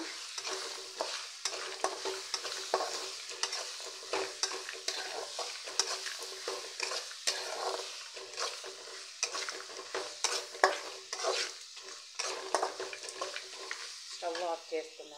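A spoon stirs and scrapes through sizzling tempering in a pan for mango rice, with repeated clinks and scrapes over a soft, continuous frying hiss, heard close and fairly quiet.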